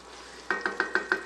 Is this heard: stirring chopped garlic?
yes